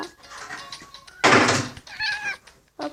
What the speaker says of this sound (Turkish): Evet, kedi dediğin böyle miyavlar dostum.